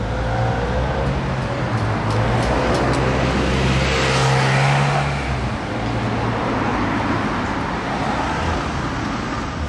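A Porsche (918) passes by with a steady, loud engine roar over roadway noise, swelling midway through as it goes past and staying strong for nearly ten seconds.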